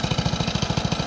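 A Briggs and Stratton small engine runs steadily with a smooth, even putter of regular pulses, close and fairly loud, with no other sounds over it.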